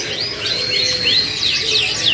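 A small local canary, one panda-colored bird among several in a shop, sings a continuous run of high, rapid chirps and trills, close and fairly loud, with a faint insect-like buzz underneath and no voices.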